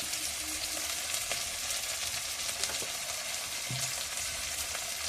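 Spice paste with ginger, salt and turmeric fries in a pan, a steady close sizzle with a few soft stirring knocks, no voices.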